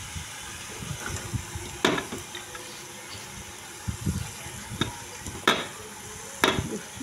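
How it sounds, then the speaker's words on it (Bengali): Pieces of meat are dropped a little at a time into a hot cooking pan and stirred, each addition a sharp knock or splash over a low, steady sizzle, repeating at irregular intervals. "এই যে অল্প অল্প করে দিয়ে দিচ্ছি মাংসগুলো"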